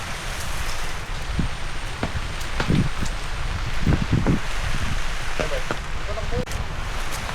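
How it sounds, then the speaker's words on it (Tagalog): Rain falls steadily outdoors as a dense, even hiss with scattered louder drops and rustling, while people talk intermittently over it. "Lagi na lang umulan."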